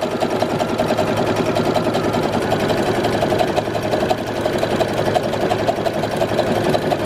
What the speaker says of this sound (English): This is the stretchy one, so I have to stretch as I sew